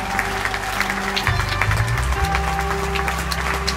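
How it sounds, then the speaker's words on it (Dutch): A crowd at an artistic remembrance event in Ieper applauds with dense, continuous clapping, loud and sustained, over a low droning musical tone. "Geef ze een applaus!"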